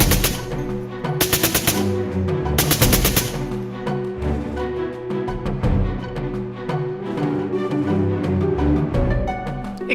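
Machine gun fire in sustained rapid bursts, loud and close, with dense rattling volleys that roll on continuously alongside heavy booming impacts and no talk.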